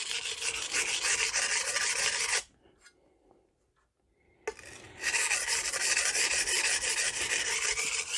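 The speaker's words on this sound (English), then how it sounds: "Try and grind it down, weaken it as much as I can, flip it back and forth." An 8-inch Magnacut chef's knife grinds back and forth on a Norton Crystolon sharpening stone, a loud rhythmic rasping scrape that stops for about two seconds of near silence, then resumes just as harsh and steady.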